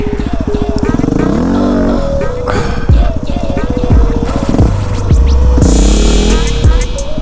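A Yamaha WR250R dirt bike revs hard and repeatedly as its rider pulls wheelies, engine pitch rising and falling through several bursts, loud and close with wind noise and some talk over it.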